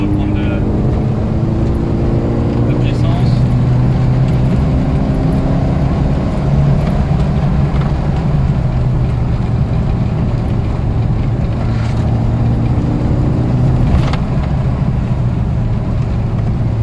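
Steady, loud interior engine drone of a period Volkswagen Golf 1 GTI on the move, a constant low hum filling the cabin, with occasional brief clicks and someone talking over it.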